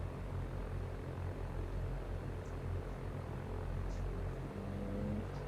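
Simulated Cessna 172 piston engine and propeller held at a steady 1800 RPM in X-Plane, a continuous even drone with a low rumbling hum, filling the whole stretch without pause.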